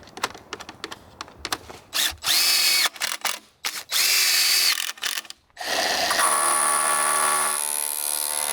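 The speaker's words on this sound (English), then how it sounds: "I'm going to be screwing down here and here" A power drill drives screws into a concrete countertop form, with several short whirring bursts, then two longer loud runs and a sustained final drive, close up, after scattered clicks and handling sounds.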